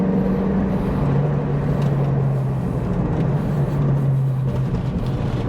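An old Ford Mustang with a few modifications drives along a bumpy, curvy road, its engine droning steadily at close range and changing pitch with the throttle, with no talking.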